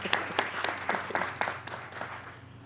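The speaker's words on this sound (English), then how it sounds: "Yes, please give her another round of applause." A graduation celebration audience claps for an honoree, with distinct individual hand claps forming a moderate, uneven patter that gradually fades toward the end.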